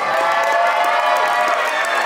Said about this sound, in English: Give all the drag queen a round of applause.